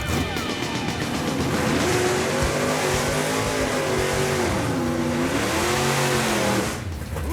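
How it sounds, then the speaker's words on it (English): A fast 1970 Ford Mustang roars close by with a loud, steady engine drone whose pitch rises and falls as it revs, fading out at the end. "Sounds like a fast car."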